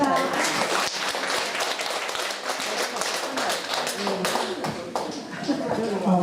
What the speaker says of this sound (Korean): 큰 박수 보내주십니다